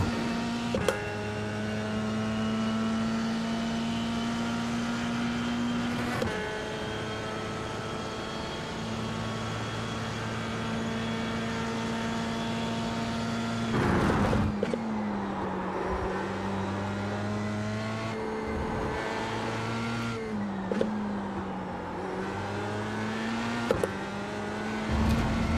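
Open-wheel race car engine in a sim racing game, a loud, steady high-pitched whine that rises and falls as revs climb through the gears, with sharp shift cuts and brief dips before climbing again.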